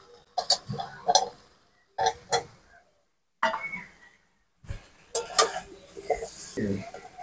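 Intermittent clattering and scraping as goat head curry with potatoes and ground spice paste is stirred in a cooking pot, coming in short irregular bursts separated by brief pauses.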